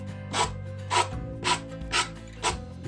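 Five evenly spaced rasping strokes of a sanding sponge rubbing a surface, close and clear, with a faint low hum underneath.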